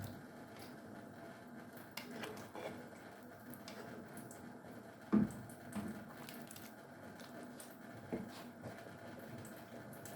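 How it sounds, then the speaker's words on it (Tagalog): Soft, steady bubbling and faint popping from a pot of beef caldereta stew simmering nearby, with an occasional louder plop. "Yan, kumukulo na."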